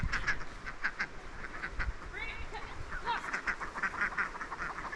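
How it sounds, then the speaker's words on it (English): Several ducks quack repeatedly close by at their summer home, loud nasal calls coming in irregular bursts over a soft outdoor background. "This is the duck summer home."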